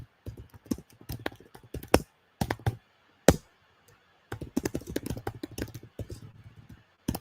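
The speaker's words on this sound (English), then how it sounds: "whilst I'm typing this out" Bursts of clicking keystrokes from typing on a computer keyboard, close and fairly quiet, coming in uneven clusters separated by short pauses, with no talking.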